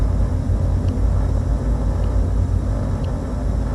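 Light aircraft engines idling in the cockpit before a short flight from Denham to Cranfield, a loud, steady, unbroken low drone and rumble close by, with no talking.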